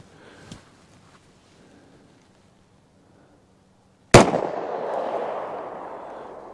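A single loud, sharp 9mm pistol shot cracks at an outdoor shooting range and rings out in a decaying tail, preceded by a few seconds of quiet with a faint tap.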